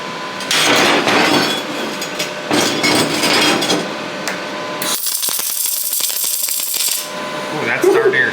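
MIG welding arc from a Prime Weld 285 welder crackles and pops in loud, sputtering bursts, a sizzling, bacon-like rattle starting and stopping in close-up.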